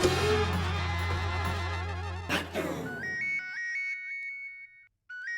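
A melodic electronic phone ringtone plays loudly, a repeating rising tune with steady beeping notes, over a brief stretch of music that fades out.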